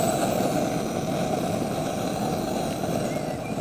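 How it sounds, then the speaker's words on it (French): A blowtorch roars steadily while lighting embers for a beekeeper's smoker, a constant dense hiss and rumble held close and loud throughout with no pauses. "ce qu'on entend, c'est le bruit du chalumeau"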